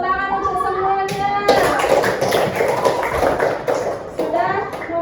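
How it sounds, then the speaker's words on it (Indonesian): Children in a classroom clap together in a burst of applause after a brief voice, the clapping dense and close, fading toward the end. "tepuk tangan untuk semuanya"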